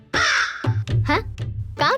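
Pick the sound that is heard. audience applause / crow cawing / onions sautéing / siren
crow cawing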